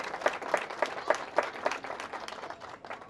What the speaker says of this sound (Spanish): él merece un fuerte aplauso en este día